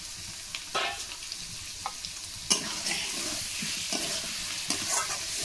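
Potatoes sautéing in a pan with onion, garlic and ginger for a Bengali prawn malaikari, a steady sizzle broken by several scraping stirs of a spatula, close and moderately loud, no voices.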